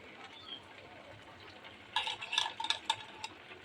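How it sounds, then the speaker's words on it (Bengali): A spatula stirs semai in a pan, starting as a faint, quiet scrape, then shifting to a cluster of close metallic clinks and scrapes in the second half. "এবার আমি একটু পেঁচুলার সাহায্যে একটু নেড়ে দিব।"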